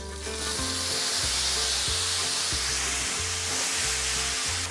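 Meat and marinade hitting hot oil with curry leaves and mustard seeds in a pan, a loud, steady close-up sizzle with faint periodic low hum beneath, no voices.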